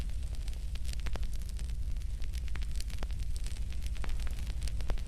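Wood fire crackling beneath a simmering pot of barley, a steady close rush of flame dotted with dense irregular pops and snaps throughout, with no voices.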